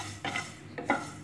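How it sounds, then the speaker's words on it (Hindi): Fenugreek, mustard and carom seeds dry roasting in a pan, with two brief stirring scrapes and faint rattling against quiet background. "अब हम मेथी, सरसों और अजवाइन को हल्का भून लेंगे।"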